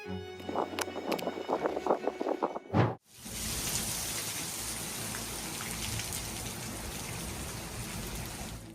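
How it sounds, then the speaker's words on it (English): Heavy rain in a fierce storm over New Orleans pours down in a dense, steady roar, preceded briefly by some rhythmic tapping and a sharp gust before the downpour settles in. "The heavy rain swept through New Orleans in a fierce storm"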